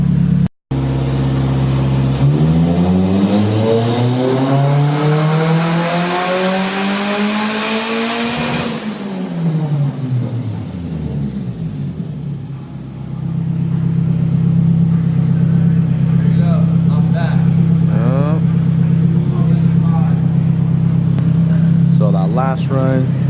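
A Nissan 240SX with a turbocharged SR20 engine on a dyno during a tuning run, revving steadily up through the gears to a loud peak, dropping back, then settling into a sustained high drone.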